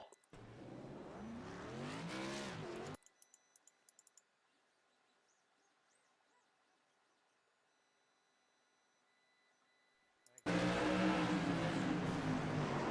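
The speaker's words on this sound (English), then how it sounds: "Bounces up Tyler Rice, spins Hofner. Hofner doing some donuts, looking to bring out the caution" A modified race car spins and does donuts after a crash on championship night. A loud engine roar opens, then gives way to a long near-silent stretch, and the roar returns strongly at the end.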